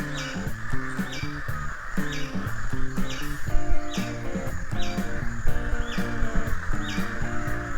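A flock of crows on their evening flight gives repeated harsh caws in rhythmic bursts, several birds calling near and loud, overlapping one another with faint chirps between.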